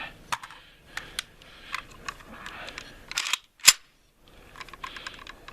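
A 1983 pre-ban Ruger Mini-14 folding-stock rifle gives off a series of small metallic clicks and scrapes as its magazine is worked loose, ending in one sharp snap, fairly close and quiet with no talk.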